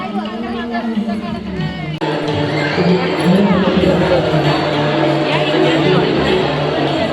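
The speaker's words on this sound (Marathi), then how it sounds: "गर्दी बघा काही" A dense crowd murmurs at a Swami math temple on Guru Purnima, its chatter and babble steady and close throughout, growing fuller after a brief shift partway through.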